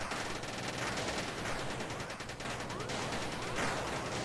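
Rapid gunfire and rocket blasts in the Gang Garrison 2 map cp_thundermountain during a clan tournament match, a dense continuous barrage of overlapping shots and explosions throughout.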